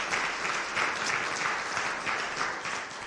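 An audience at a Forest Grove and Cornelius state-of-the-cities event applauds. Steady, full clapping carries on for about three seconds without a break.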